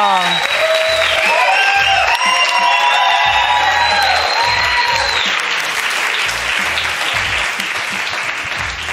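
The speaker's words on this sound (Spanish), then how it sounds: "al que voy a pedir un fuerte aplauso" Loud, sustained applause and cheering from a live studio audience at a Pride special, dense clapping filling the whole stretch with whoops and shouts rising early, while hosts' voices ring out over the crowd.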